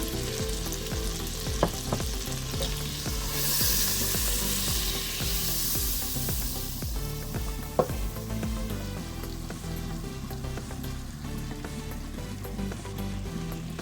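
Butter and flour fry in a pan for an Alfredo sauce roux, a continuous crackling sizzle with occasional knocks and scrapes of a utensil stirring, loudest in the middle.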